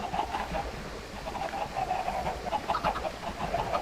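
Chickens in the video game Minecraft cluck in short, repeated bursts, near and fairly loud over a soft background hum, with no talking.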